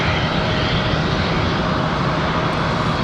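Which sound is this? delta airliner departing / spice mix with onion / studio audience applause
delta airliner departing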